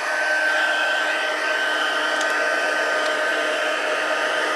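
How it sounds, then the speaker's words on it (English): A heat embossing gun for card making blows hot air in a steady, loud, unbroken whooshing hum with a faint tonal whine, heard alone throughout. "and my heat tool. I'll turn it on"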